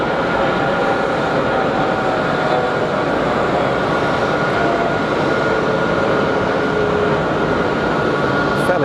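Jet aircraft departing Geneva Airport on a fairly flat climb, a steady broadband engine roar holding loud and constant throughout with no pause or talk.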